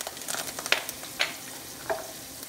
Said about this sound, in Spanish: vamos a sofreír nuestras especias